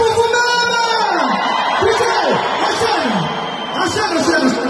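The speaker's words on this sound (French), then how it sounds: "Applaudissez pour vous-même." Large concert crowd in Paris roaring, whooping and yelling, loud rising and falling cheers that swell close and continuous, with shouted voices dominating over any clapping.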